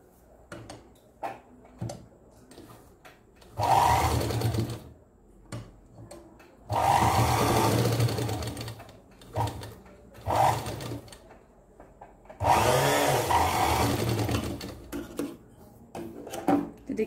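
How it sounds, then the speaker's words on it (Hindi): A sewing machine stitches a cloth baby diaper in three loud running bursts of a few seconds each, separated by quieter handling sounds and pauses. "अब यहां पे एक सिलाई लगा देंगे।"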